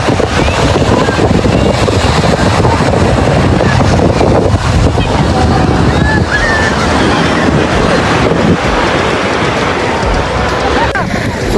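Sea waves breaking on a beach in Kerala, a steady loud roar of surf with wind buffeting the microphone throughout.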